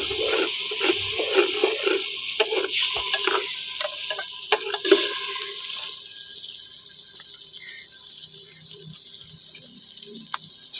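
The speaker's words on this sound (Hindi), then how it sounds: "आपने इस वक्त ऑयल, प्याज और मिर्चें" Onions and chilies frying in oil in a pan, a close crackling sizzle with stirring scrapes that fades to a quieter hiss partway through.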